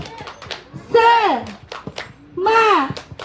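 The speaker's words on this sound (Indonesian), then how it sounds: "Tepuk semangat." Children at an early-childhood classroom session perform a rhythmic spirit clap, quick sharp hand claps in a patterned beat alternating with two loud chanted vocal bursts, close and lively.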